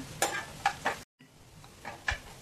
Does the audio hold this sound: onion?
yes